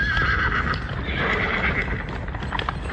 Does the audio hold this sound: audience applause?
no